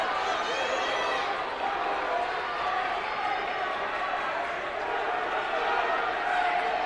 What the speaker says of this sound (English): And you're going to hear this crowd urging on the runners